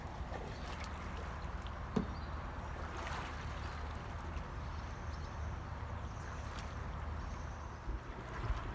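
A canoe is paddled on open water by two people, with a faint, continuous wash of water and soft swishing strokes, plus a few small knocks scattered throughout.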